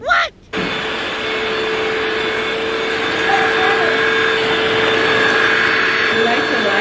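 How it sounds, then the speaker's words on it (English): A vacuum cleaner runs aboard a passenger plane, a loud and steady motor whine that holds level for several seconds after a brief opening sound and dip. "We're just gonna casually vacuum."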